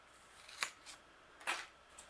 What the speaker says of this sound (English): Cut off this one again just like the white one. Maybe cut it off a little more so it's even shorter.